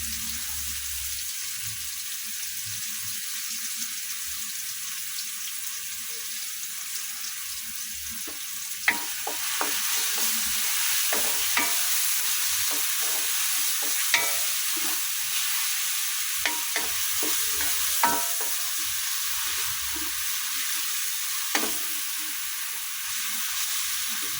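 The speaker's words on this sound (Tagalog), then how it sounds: "lutuin natin yung alamang guys" Shrimp paste (alamang) frying in a pan makes a constant bright hiss, joined midway by sharp pops and the scrape of stirring at irregular intervals, close and steady without talk.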